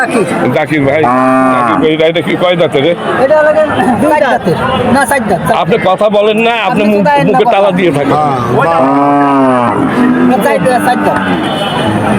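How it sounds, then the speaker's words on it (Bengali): Several cattle moo loudly, drawn-out calls one after another, over a constant hum of crowd chatter and voices at a busy outdoor cattle market in Khulna. "এই যে অনেক গরু আছে এখানে"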